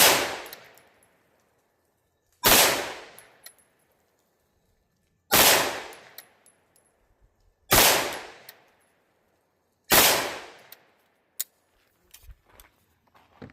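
Five sharp, loud 9mm shots ring out from a Bear Creek Arsenal BC-9 bufferless AR9 pistol firing Underwood Extreme Defender ammunition, spaced about two to three seconds apart, each with a short decaying echo, followed by faint clinks.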